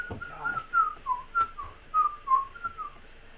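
A person whistles a tune, a clear close melody of short rising and falling notes in a steady, slightly halting rhythm.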